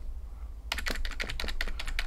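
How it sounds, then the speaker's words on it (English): A wired keyboard plugged into a Realme 11 5G phone is typed on after a short quiet pause, giving a quick, close, steady run of crisp keystrokes. "As you can see, I'm using my keyboard on the Realme 11 5G."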